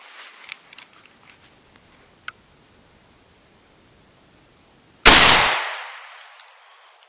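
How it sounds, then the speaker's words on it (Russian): A shotgun fires an Impulse cartridge loaded with No. 6 shot: a single loud, sharp blast after several seconds of faint handling sounds, with a long decaying outdoor echo. "Смачный выстрел."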